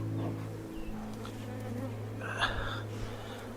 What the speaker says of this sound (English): A couple balls of bees on the outside.